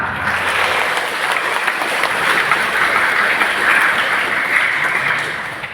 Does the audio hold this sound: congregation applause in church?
yes